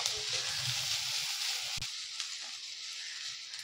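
Two onions frying in a pan until golden brown for vermicelli pulao, a steady close hiss and sizzle with occasional soft stirring clicks, no voices over it.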